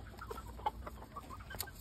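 Backyard hens, including Americana and Appenzeller chickens, clucking softly at a homestead while pecking at fresh greens, with faint scattered calls and a few brief sharper notes.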